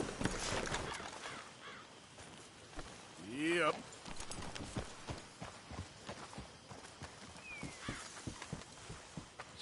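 A horse's hooves clop in a video game, a light, irregular patter of hoofbeats mixed with footsteps and a brief vocal sound, under game dialogue.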